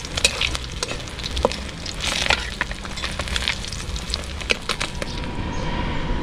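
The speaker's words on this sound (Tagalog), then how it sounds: "Yung sinasabuyan mo siya ng mainit na mantika, tapos sinalo-halo mo, parang sinasangag ba." Hot oil splashed over fried gourami fish and stirred in a pan, a steady close crackling sizzle with scattered sharp pops and stirring clatter throughout.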